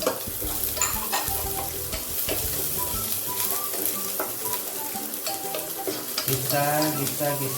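Onion being sautéed with garlic in a pan for catfish in coconut milk, a constant close sizzle with bright spatula scrapes and clatter and no talking.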